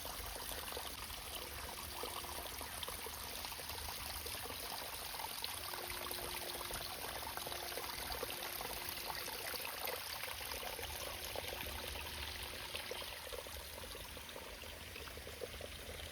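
A small waterfall in a state botanical garden splashes steadily, a soft, continuous hiss and trickle of falling water at some distance, with a faint high insect-like whine above it and no talk.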